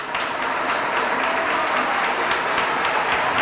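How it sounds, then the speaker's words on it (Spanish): Strong, sustained applause from a conference audience for a guest lecturer, a dense steady wash of clapping filling the whole stretch at even loudness with no voices on top. "Fuertes aplausos para nuestro conferencista invitado"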